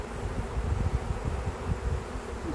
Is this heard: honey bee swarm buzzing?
yes